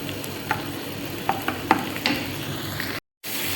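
Chicken frying in butter in a pan, a steady close sizzle with a few sharp spits and pops and occasional stirring clinks, no voices, briefly cutting out near the end.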